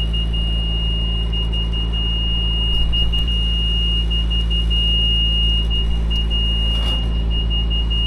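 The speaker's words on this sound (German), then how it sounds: "Alarma! Alarm!" An alarm beeping on an Agroliner machine, a steady high electronic tone held throughout over a constant low engine hum, with a brief louder burst near the end.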